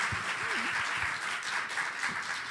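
Soft applause from a conference audience at a healthy-cities general assembly, a thin steady patter of clapping heard at moderate distance, with a faint voice briefly underneath.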